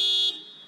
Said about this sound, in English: all of a sudden now it's honking on him